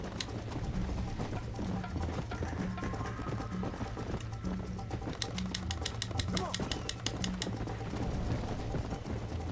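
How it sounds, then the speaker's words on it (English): Horse galloping in the video game Red Dead Redemption: rapid rhythmic hoofbeats clatter along over steady background game music, with the pace sharpening midway. "Your horse will run faster while on roads or host trails."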